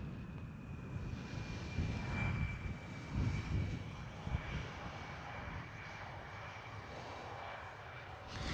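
A KLM Cityhopper Embraer E175 jet passes at Schiphol airport in Amsterdam, its engine roar a broad, fairly distant rumble that swells slightly mid-way and then holds steady.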